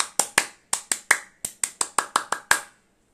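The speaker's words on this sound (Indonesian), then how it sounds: "Tepuk pramuka." Sharp, crisp hand claps in a syncopated rhythmic pattern, the Indonesian scout clapping routine, sound close and clear in quick groups of about thirteen strikes with short pauses between them.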